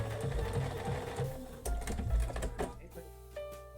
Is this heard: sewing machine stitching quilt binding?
yes